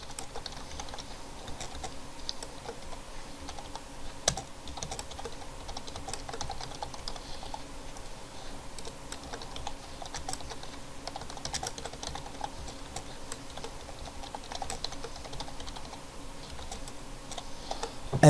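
Keys on a computer keyboard are typed in a quick, irregular patter of soft clicks, with a few louder taps standing out against quiet room noise.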